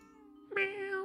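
A cat meows in the video game 60 Parsecs: after a faint tonal hum, one clear, fairly loud, bright meow rises in the last half second, with nobody talking.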